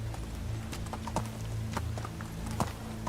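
Horse hooves clip-clop in a steady walking rhythm as a rider travels in the video game Medieval Dynasty, close and moderately quiet, with no talk over it.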